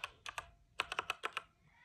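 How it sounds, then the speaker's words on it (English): Keys clack on a RisoPhy wireless mechanical RGB gaming keyboard, a short burst of about nine crisp, close strokes in two quick groups with a brief pause between, no talking. "I have my computer up, so let me try typing."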